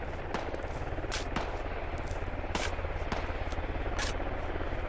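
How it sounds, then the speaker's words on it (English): In the video game Squad, gunfire rings out across a battlefield: single shots and short bursts cracking at irregular intervals over a steady rumbling background, some loud and near, others more distant. "The fuck are they shooting at?"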